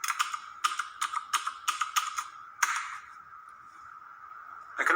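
Quick runs of clicking keystrokes on a computer keyboard, close and fairly quiet, then a pause with a faint steady tone before another key press.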